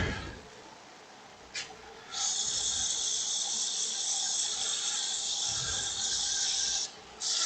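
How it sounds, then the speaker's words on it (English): A wooden goblet spinning on a lathe is sanded with 180-grit sandpaper, giving a steady, bright rasping hiss that holds for about five seconds after a short touch, close and fairly loud. "I'm going to grab the sandpaper here."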